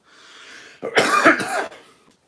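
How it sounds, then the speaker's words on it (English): A burst of harsh coughing, several quick hacks in a row, close and fairly loud after a brief quiet lead-in. "is coughing like crazy"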